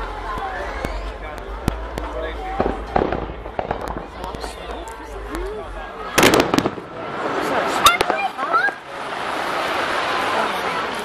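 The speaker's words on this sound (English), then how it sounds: "You can't see the fireworks from around there, can you?" Outdoor fireworks display heard from a distance, with scattered pops and crackles, a few sharper close bangs, and a crackling, fizzing stretch near the end, while people talk over the sound.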